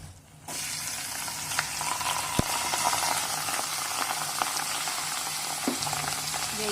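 Dry prawns fry on a slow flame with a constant soft sizzle and scattered pops and crackles, close and even, starting after a brief quiet moment.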